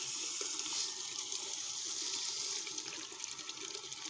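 Water gushes hard from a mosque's water pump motor pipe under strong pressure, a loud, hissing, splashing stream that runs steadily throughout.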